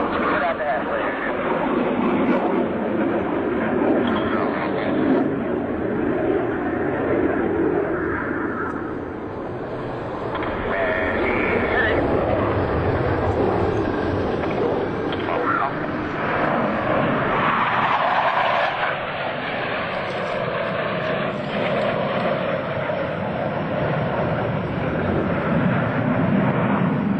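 US Navy Blue Angels jets flying a Diamond aileron roll at the 2003 Vectren Dayton Airshow, a steady roaring jet rush that swells and eases over nearly half a minute, loud and sustained, with an announcer talking over it.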